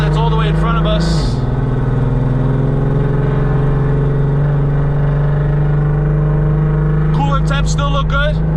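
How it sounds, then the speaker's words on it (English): A VR6-swapped Audi RS3 cruises at about 60 mph in a high gear, its exhaust holding a steady, loud, continuous drone for several seconds, with speech-like bursts at the start and end. "you can hear that R rumble in the higher gears, about 60 miles an hour"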